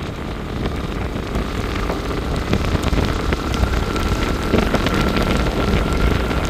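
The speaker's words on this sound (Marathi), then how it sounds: "पावसाला जोरात सुरुवात झालेली आहे." Heavy rain near Nashik falls in a steady, dense hiss with scattered patters and drops, and no voices.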